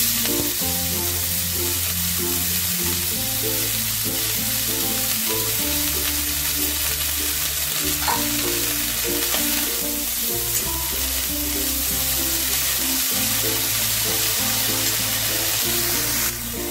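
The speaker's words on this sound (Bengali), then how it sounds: "মেথি শাকটা প্রায় 1 মিনিটের মতন আমি হাই ফ্লেমে একটু ভেজে নিলাম" Fenugreek greens sizzle and fry steadily in butter in a pan over high flame, with occasional stirring and scraping, loud and close throughout.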